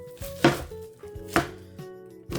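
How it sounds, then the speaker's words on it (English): A knife dicing an onion on a cutting board, three sharp close chops spaced about a second apart over a faint steady hum, with no talking. "the next step is dicing the onion"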